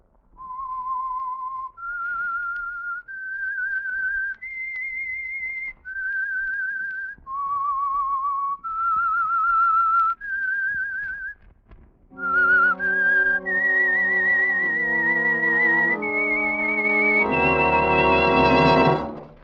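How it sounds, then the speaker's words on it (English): Signature whistled theme for the Signal Oil radio drama The Whistler: a lone, clear melodic whistle of sustained notes stepping up and down, then joined by a swelling orchestral band that rises to a loud, full finish. "That whistle is your signal for the Signal Oil Program, The Whistler."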